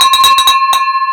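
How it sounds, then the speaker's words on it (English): A bell rings about six times in quick succession, then once more after a short pause, bright and close with a sustained ringing tone. "Ring that bell."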